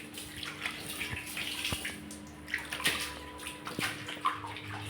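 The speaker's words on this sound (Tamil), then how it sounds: "சோப்பு போட்டு கழுவிக்கலாங்க லிக்விட் ஊற்றி." Water runs and splashes while a new clay pot is washed with liquid soap, a steady close wash of flowing water broken by several small knocks and clinks against the pot.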